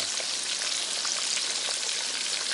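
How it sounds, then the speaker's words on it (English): Kotlety patties fry in hot oil in a wok with a dense, steady crackling sizzle that stays loud and even throughout and has no voices over it. "I like frying in a wok."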